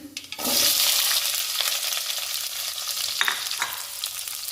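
Onions dropped into hot oil with dried red chillies and tempering seeds, a sudden loud burst of sizzling that settles into steady close frying with occasional stirring clinks.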